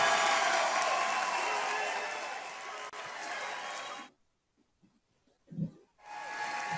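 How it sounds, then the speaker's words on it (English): Thick, hissy audience applause for Julian Assange at the 2016 Green Party convention fills the first four seconds, then cuts to near silence broken by a brief muffled burst. "You can applaud now for Julian Assange."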